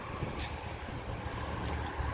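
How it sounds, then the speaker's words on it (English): Steady low rumble of heavy interstate truck traffic passing nearby, a continuous road drone with some wind noise, no voices. "I am right next to the interstate, so every now and then trucks come by here"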